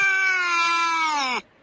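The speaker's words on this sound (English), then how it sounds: "I do like the sound of a cat fighting" A single drawn-out, wailing caterwaul from a cat fight, loud and close with a rich harmonic yowl that holds steady for over a second, then bends downward and cuts off abruptly into near silence.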